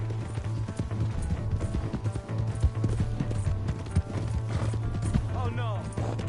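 Horse hooves clip-clop at a quick, steady trot in a video game, close and prominent over a constant low drone, with a whinny and a spoken voice layered in.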